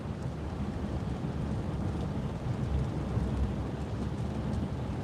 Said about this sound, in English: this rain doesn't look like it's going to give up at all